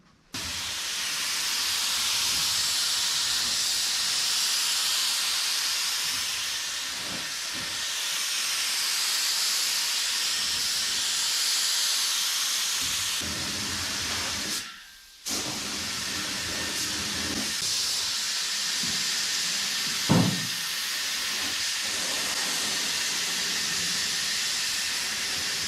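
Spray gun laying a single even coat of gray sealer over gray primer on a 1959 Dodge Coronet, a steady loud hiss running almost nonstop with one brief pause midway and a small clunk near the end.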